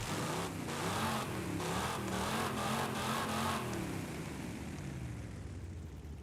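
Muscle car engine giving a deep, steady growl with a rhythmic pulsing rumble, close and loud at first, then easing off slightly toward the end with no talk.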